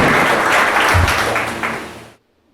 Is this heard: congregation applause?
yes